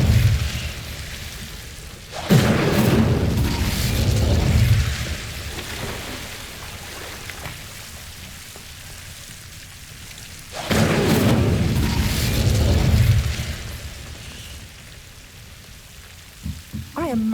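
Incendio fire spell cast twice in Hogwarts Legacy, each a loud whooshing burst of flame lasting about two seconds, with the second following several seconds after the first, then fading into quieter game ambience.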